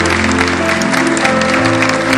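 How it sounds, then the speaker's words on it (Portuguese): An audience at a Portuguese-language program applauds the guests with loud, dense, sustained clapping that fills the whole moment, over a faint steady hum. "Uma salva de palmas para os meus convidados hoje."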